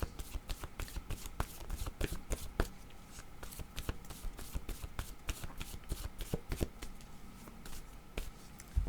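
A deck of tarot cards shuffled by hand, a rapid run of crisp flicks and riffles with uneven rhythm throughout, close and fairly quiet with no talk.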